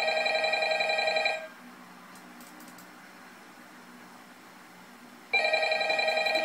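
A telephone in Ultimate Custom Night rings with a loud electronic trill in two bursts separated by a few seconds of quiet room hum, with no talk.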